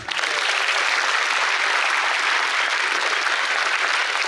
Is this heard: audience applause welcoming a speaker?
yes